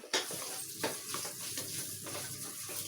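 Mashed potatoes being stirred into a hot pan for a South Indian potato poriyal, with a steady sizzle under repeated scraping strokes of the spoon, close and fairly quiet, no talking.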